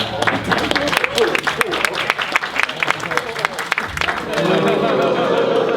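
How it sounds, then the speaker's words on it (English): Audience applause at a celebrity roast, dense clapping and crowd noise rising and falling with voices mixed in, then settling into a steadier, fuller wash of applause toward the end. "Applause sign, please."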